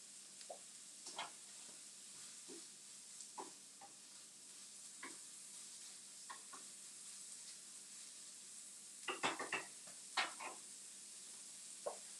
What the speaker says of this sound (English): Listen for the sizzle.